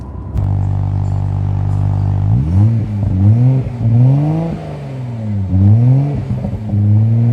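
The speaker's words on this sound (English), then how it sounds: "So how does the exhaust sound? Well, here it is." A Nissan Skyline R33 GTR's aftermarket exhaust idles with a deep burble, then revs repeatedly in rising and falling sweeps, loud and close with no talking.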